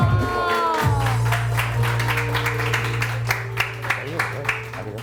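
Studio audience on a Pakistani New Year's morning show applauding, steady clapping over a held musical tone with a low hum, a sharper clap burst near the end.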